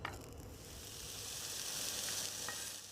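Onions fry in a pan for a sausage and eggplant tortellini sauce, giving a soft, even sizzle with a few faint clinks, close but quiet and without any voices.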